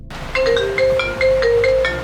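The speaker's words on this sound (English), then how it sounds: "And now I'm calling myself on FaceTime." A FaceTime call rings on a phone, a loud, close electronic melody of rising and falling tones that begins after a brief silence and repeats in two phrases.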